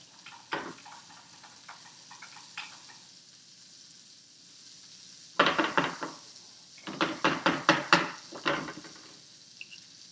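Two eggs being stirred in a bowl, heard as quick clusters of scraping, clicking strokes, with a brief early burst, a quiet gap, then a longer run of rhythmic stirring.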